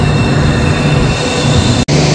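Train 15777 Alipurduar Tourist Express with Vistadome coach arriving at Alipurduar Junction, a loud steady rumble of rolling rail cars with a sharp click near the end.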